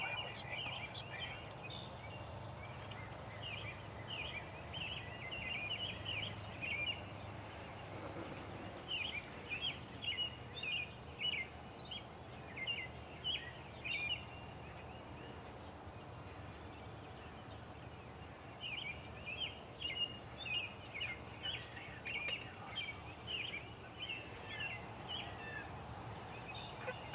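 Out in a fenced pasture, a wild turkey tom gobbles repeatedly at a distance, with bursts of rattling calls returning at intervals over a quiet rural backdrop.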